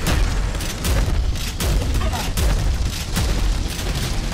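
Shotgun fire in the first-person shooter Prodeus, a dense barrage of booming blasts on an ultra hard level, loud and continuous with repeated sharp thumps over a heavy low rumble.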